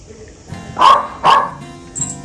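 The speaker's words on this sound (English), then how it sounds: "As you can tell by that barking, that is Lulu." A pregnant dog barks in two sharp, loud close-range barks followed by a softer short yip, with quiet room noise between.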